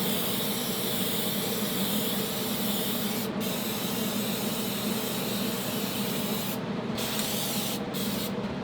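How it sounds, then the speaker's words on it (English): Clear coat sprayed from a can onto a wooden box made from an old pallet, a loud continuous hiss with a few brief pauses near the end, close and with no talk. "I'll hit everything with a clear coat."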